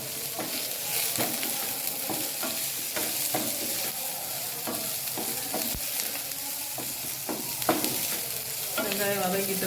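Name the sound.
ginger garlic paste sautéing with onions in a pan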